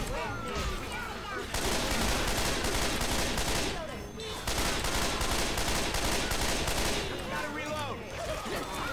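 Rapid gunfire from the Left 4 Dead video game crackles in two long sustained bursts with a short pause between them, while a player talks over the shooting.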